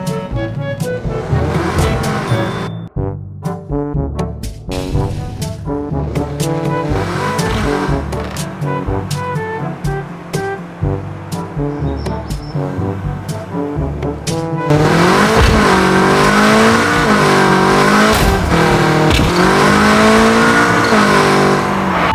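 A Mitsubishi Evo 9 running low on fuel drives in a video game, its engine droning and revving through shifting gears for about twenty seconds, loud and steady, with a brief tire squeal and a harder, busier stretch near the end.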